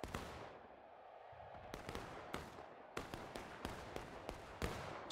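Musket volley in War of Rights, a Civil War video game: one big ragged crash opening a reverberant roll, then a string of separate distant musket shots cracking at irregular intervals, with no talk.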